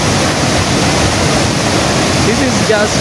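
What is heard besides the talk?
waterfall in a forest near Nairobi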